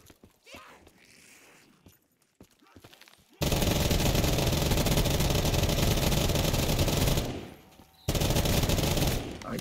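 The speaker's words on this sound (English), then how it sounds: "My gun really mows them down" LMG machine gun firing in a Custom Zombies video game, a loud sustained burst of rapid automatic fire that cuts off briefly then resumes, preceded by quieter footsteps and game sounds.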